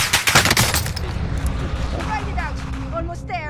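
Gunfire from the video game Call of Duty Vanguard in a Royale duos match: a burst of loud, rapid shots opens the clip, followed by further game noise and a rising sweep near the end, with speech present.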